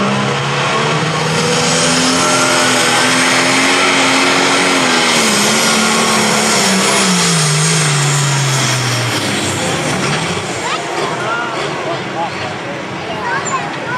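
A pulling tractor's loud, roaring engine strains hard at a county fair tractor pull, its pitch rising and then dropping off as it bogs down, with a crowd or announcer murmuring beneath.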